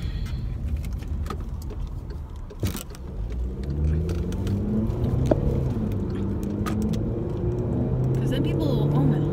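A pickup truck passes along a road with a center turn lane, its engine and tire roar building steadily and close, among other traffic, under a talking voice.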